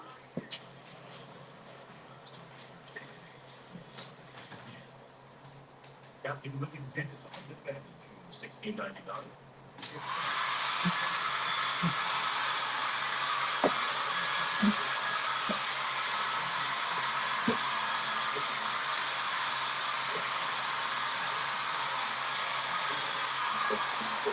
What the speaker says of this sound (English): I am going to have to go use the blow dryer.